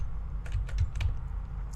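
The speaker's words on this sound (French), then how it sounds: "Quand je clique sur Alt" A computer keyboard's Alt key is pressed during design software work, making a handful of soft, closely spaced clicks over a steady low hum.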